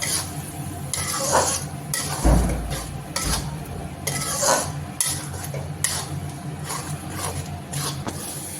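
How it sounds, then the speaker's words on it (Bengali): A spoon stirs a spice mixture for a moong dal and egg dish in a metal pan, making repeated scraping and clinking strokes in an uneven rhythm with an occasional heavier knock, up close and with no talking. "এখন এটা নেড়ে নেব।"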